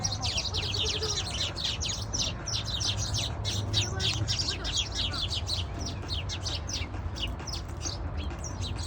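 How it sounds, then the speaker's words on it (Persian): Birds fighting, with a dense run of rapid chirps and tweets over a constant low rumble of background noise, continuous and fairly close throughout. "جنگ پرنده ها."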